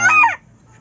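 A bantam hen inside a coop gives one short, close clucking call that drops away quickly into quiet.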